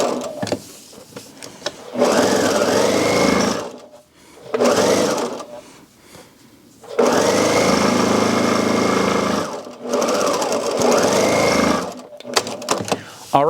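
A sewing machine stitches a fabric seam for a gift bag made from fat quarters, whirring loudly in three sustained runs that speed up and slow down, with short quiet gaps between them.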